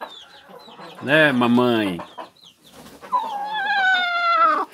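A brooding hen on the nest gives a drawn-out low clucking call near the microphone, followed by a second, higher sustained vocalization, while someone speaks softly in between.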